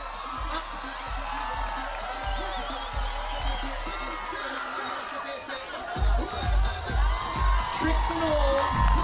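Audience at a contestant show cheering, whooping and clapping, with lively chatter and voices through the noise and louder bursts toward the end.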